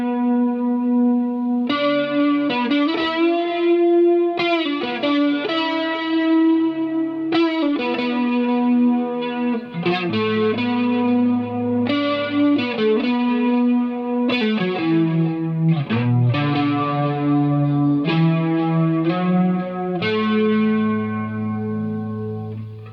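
Electric guitar played through a clean amp with a stack of effects pedals, a sustained layered tone with chorus, echo and some grit, sounding close and loud as a continuous melodic phrase with no talking.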